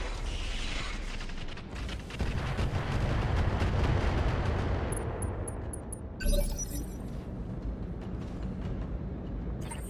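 A mech launching LRM missiles in the Battletech Roguetech mod, a rapid ripple of launches followed by a long roaring rumble, then a sharp impact with crackling debris.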